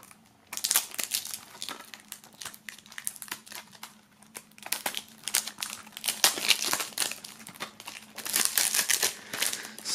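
Plastic shrink wrap on a boxed album set is being cut and peeled open up close, producing repeated sharp crinkling and crackling bursts that come in irregular clusters, with no talking.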